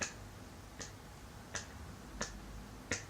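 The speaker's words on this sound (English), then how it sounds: "clapping is happening" Sharp, isolated hand claps repeating at a slow, regular pace, about one every 0.7 seconds, close and crisp over a faint low hum, with no voices.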